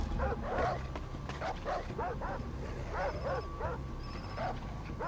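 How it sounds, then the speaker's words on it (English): A small pug in Far Cry 3 gives a run of sharp, yappy barks and whimpers in uneven bursts, fairly close, over a low steady background hum. "Looks like a little pug."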